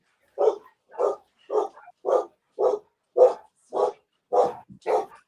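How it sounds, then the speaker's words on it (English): A dog barks nine times in a steady rhythm, each bark short and fairly loud, spaced about half a second apart, with a brief low whimper near the end and quiet between barks. "Her dog's going as well."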